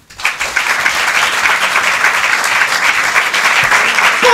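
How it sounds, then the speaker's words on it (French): Audience applause greeting performer Camille Verlin on a televised Candidator show: a full crowd clapping steadily for about four seconds, dense and sustained with a light crowd murmur beneath. "Je vous demande d'applaudir l'incroyable Camille Verlin."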